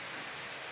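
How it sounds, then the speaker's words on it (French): Rain falling late in the evening, a soft, steady hiss of drops, faint and continuous for a brief moment with no other sounds. "C'est jamais trop tard pour une bonne pluie."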